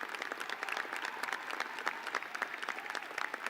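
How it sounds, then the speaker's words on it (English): Sustained applause from a commencement crowd for graduating students of the Class of 2020 and Spring 2021, an even wash of many hands clapping that fills the hall without speech. "A round of applause for these remarkable students."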